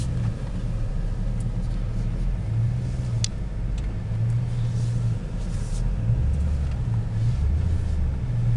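Cabin of a 2000 Chevrolet Silverado LS extended-cab 4x4 pickup on a road test, with a steady low engine and road rumble and faint soft clicks, heard from inside and without talk.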